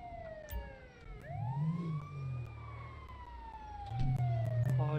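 An ambulance siren from GTA 5 with the LSPDFR mod arrives in a rising and falling wail, fairly close and prominent, over a low rumbling engine that grows louder toward the end.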